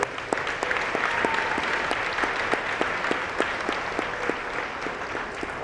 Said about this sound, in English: Let's give them another nice round of applause on those special awards.